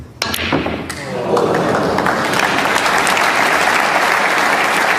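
A snooker crowd at the Northern Ireland Open applauds a 128 break. A few sharp ball knocks come first, then loud sustained clapping swells and fills the hall.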